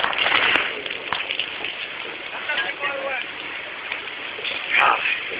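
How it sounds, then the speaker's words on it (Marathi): A submerged water pump motor discharging cement-mixed water at a low-quality bridge construction site, giving a continuous rushing, splashing flow like heavy rain, with a louder surge near the end and voices partly over it. "या फिटरनी पाण्यातली मोटर चालू केलेली आहे इथली, आणि हे सिमेंट मिश्रित पाणी"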